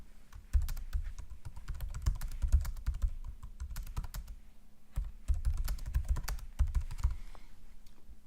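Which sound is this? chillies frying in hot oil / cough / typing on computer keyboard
typing on computer keyboard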